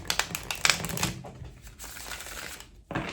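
Tarot cards are shuffled up close in quick riffling bursts with brief pauses between, crisp and fairly soft, and a last short flurry comes at the end.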